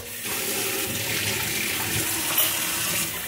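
Water running steadily from a kitchen sink tap, a constant close hiss and splash that starts almost immediately and holds without a break.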